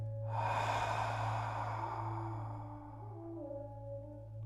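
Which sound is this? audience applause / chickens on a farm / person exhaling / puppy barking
person exhaling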